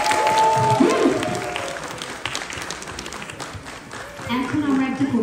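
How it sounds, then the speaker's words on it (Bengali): A crowd at a CMU Bangladesh event applauds loudly after a children's dance performance, a continuous wash of clapping with a voice speaking over it at the start and end. "তাদের জন্য একটা জোরে করো হাততালি হবে।"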